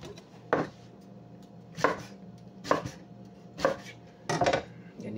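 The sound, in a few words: knife slicing vegetables for kimchi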